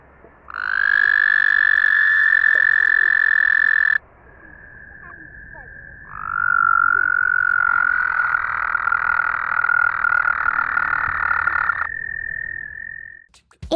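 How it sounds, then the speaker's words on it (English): Two long, steady trills from a toad, the first about three seconds, then a brief pause before a longer second trill, loud and close. "It's a toad."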